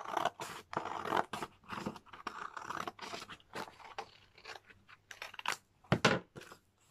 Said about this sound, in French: on va pouvoir découper au milieu sur la pliure.